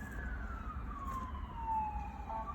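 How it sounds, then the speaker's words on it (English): An ambulance siren passes close to a home near a firehouse, a loud wailing tone that slowly glides downward as it goes by, over a steady low rumble of traffic, with no talk. "Sorry for the ambulance, guys."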